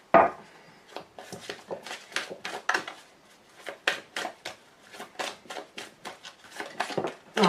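Tarot deck being cut and shuffled by hand, a steady run of crisp, riffling card snaps and taps close up, about a dozen distinct bursts with no talking.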